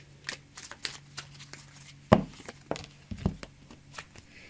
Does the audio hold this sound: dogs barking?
no